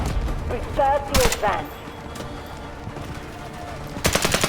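Gunfire in the shooter game Delta Force Hawk Ops: a short automatic burst near the start, then a loud rapid rattle of shots at the end, over faint game ambience.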